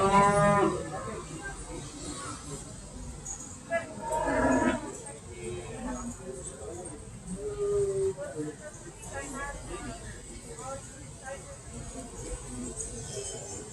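Cattle lowing at a heifer and steer show out on the sand, several moos rising at intervals over a steady crowd murmur, with someone talking over the pens throughout.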